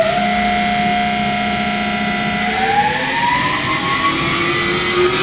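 A Tesker machine spindle starts up with a steady mechanical hum, then its whine climbs smoothly in pitch as it spins up, loud and close against a constant machine-shop drone.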